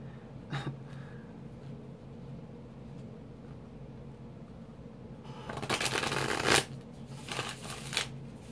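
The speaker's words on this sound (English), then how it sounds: "Now we'll get into the tarot cards." Lumina tarot cards being shuffled, starting with faint scattered handling and then a dense riffling burst that swells loud and close before trailing off into a few lighter flicks.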